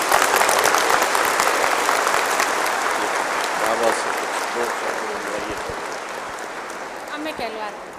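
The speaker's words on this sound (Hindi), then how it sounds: "खूब ताली बजाइए।" Sustained audience applause at a spiritual gathering for the inauguration of a solar project, a dense, steady wash of many hands clapping throughout, gradually easing slightly toward the end.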